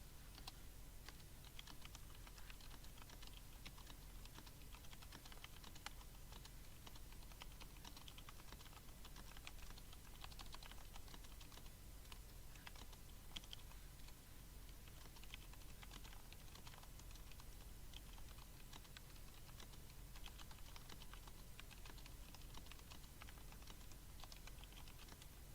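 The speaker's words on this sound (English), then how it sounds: "a great keyboard for ASMR" Quiet rapid typing clatters on a computer keyboard for an ASMR session, a steady continuous stream of soft key taps with no voice, faint and close.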